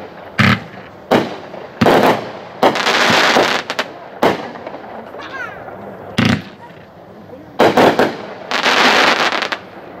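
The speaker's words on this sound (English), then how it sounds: "That was The Right to Bear Arms. Candy Bang, 25-shot, 500-gram cake, packed 4 over 1" Consumer fireworks cake, a Candy Bang 25-shot 500-gram cake packed four over one, fires a string of loud sharp bursts in uneven clusters over about ten seconds, with crackling tails between shots.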